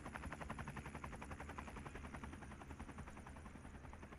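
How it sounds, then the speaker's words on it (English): A helicopter flies toward a hospital in the city-building game Cities Skylines 2, its steady rapid rotor chop thumping low and loud throughout with no one talking. "Helicopter going into the hospital."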